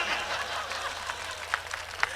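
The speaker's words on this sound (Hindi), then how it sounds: "ताली बजाओ, ताली बजाओ।" Scattered, faint applause from the audience at a Hindi kavi sammelan poetry recital in Pratapgarh, a thin steady patter of hands with a couple of sharper claps near the end.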